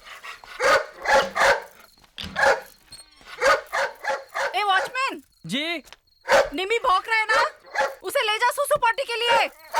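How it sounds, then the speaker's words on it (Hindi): A dog barks and yips in short bursts at a household, mixed in among a stretch of voices talking, with the barks mid-loud and close. "Stupid dog!"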